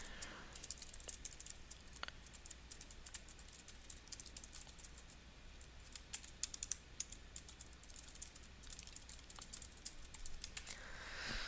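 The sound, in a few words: typing text on a computer keyboard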